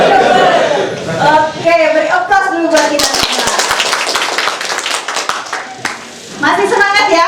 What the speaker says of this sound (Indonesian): beri applause dulu buat kita semua